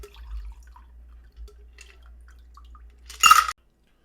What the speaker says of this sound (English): give it a little stir, pour it in.